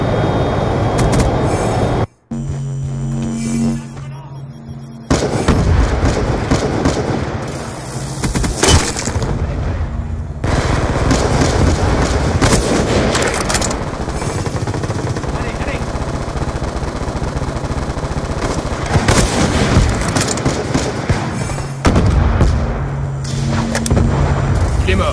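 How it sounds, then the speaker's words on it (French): A Hellstorm missile strike in Call of Duty Black Ops II arrives among heavy combat noise: rumbling explosions, bursts of gunfire and mechanical roaring, loud and dense throughout with brief dropouts. "Hellstorm en approche."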